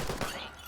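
A short burst of rapid machine gun fire in a combat video game, dense and loud, blending into a continuous roar with some voice underneath.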